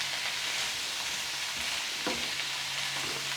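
Cabbage and potatoes with bacon stirred in a frying pan: a steady, fairly soft sizzle of grease runs throughout, with a light scrape of the utensil near the middle.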